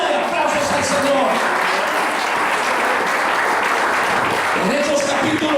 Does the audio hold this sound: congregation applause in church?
yes